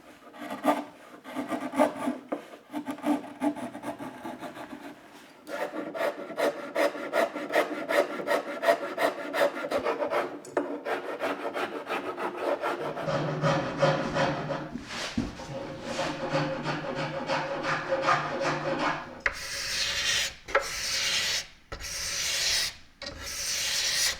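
Hand tools such as rasps, files and saws work the wooden body of a lyre, with steady rhythmic scraping and rubbing strokes that change character partway through, ending in brisker, brighter rasping bursts, close and continuous.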